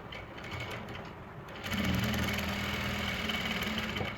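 A sewing machine stitching along the edge of a salwar mori, starting quieter then running in a steady, close, rapid whirring hum for the remaining few seconds.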